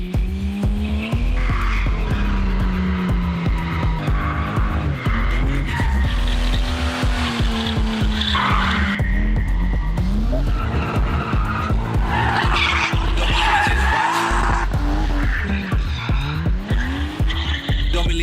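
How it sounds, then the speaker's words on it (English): A Nissan Silvia S14 drift training car, set up for summer, skids continuously with loud, wavering tire squeal and a revving engine, sustained passes close by with no break in the screech. "This is their training car, which they use, we could say, to teach people drifting."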